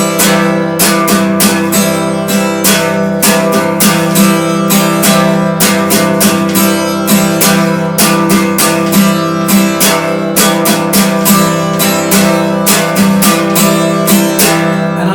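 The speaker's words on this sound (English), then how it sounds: "Now this pattern is much more bassy because there are mostly down strums on the first half of the bar." Acoustic guitar strumming a single chord in a steady pattern of mostly down strums, with a droning, bassy feel; loud, close and continuous with no talking.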